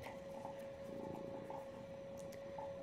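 A cat purrs softly close by, a low steady rumbling hum that runs continuously under a faint background tone, with no talking.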